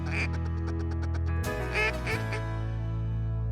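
Ducks quacking in a rapid series of short calls over steady low wind or motor rumble at a hunting decoy spread in Alberta, followed by a few louder, closer quacks.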